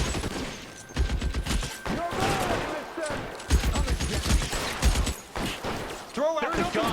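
Heavy gunfire in a shootout in the crime game L.A. Noire, rapid overlapping shots and volleys going on throughout while people shout and talk over the din.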